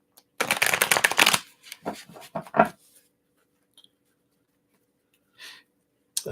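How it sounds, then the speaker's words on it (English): A quick riffle of shuffled tarot cards followed by a few softer slaps and shuffles, then near silence with a faint rustle. "Give one more shuffle here."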